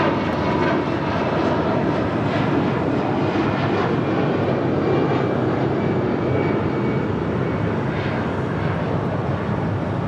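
An American Airlines A319 departing LAX for Mexico City, its engines roaring loud and steady throughout with a broad, continuous rumble and no talking.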